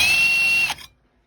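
A power drill boring a small pilot hole whines loudly and steadily, then winds down and cuts off, leaving near silence.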